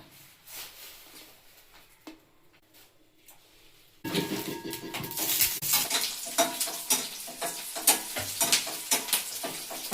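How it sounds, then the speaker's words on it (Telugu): Chopped green chillies fry in hot oil for a village-style ivy gourd chutney; a quiet opening gives way at about four seconds to loud, crackling sizzle with stirring scrapes and clinks. "పచ్చిమిర్చి వేగాయి"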